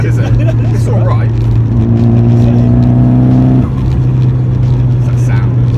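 A Nissan Pulsar GTiR engine drones steadily while driving, rising in pitch through a rev before settling back, loud and close from inside the car, with a voice speaking over the engine.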